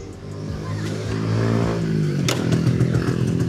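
A Yamaha 125ZR two-stroke motorcycle engine starts and settles into a loud, steady idle, close by and alone, with a buzzy, rattling running note that swells slightly toward the end.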